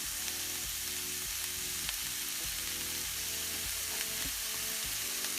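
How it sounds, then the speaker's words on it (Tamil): Onions sautéing with salt in a pan for mutton keema, a constant close sizzle with a repeating pattern of stirring strokes and no talk. "ஸோ வந்து வெங்காயம் நல்லா வணங்கணும்"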